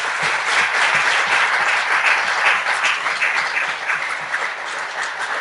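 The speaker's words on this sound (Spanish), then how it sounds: "un aplauso para el mundo de Iberoamérica." An audience applauds continuously, a dense wash of many hands clapping with a fairly even loudness that eases slightly toward the end, with no voices over it.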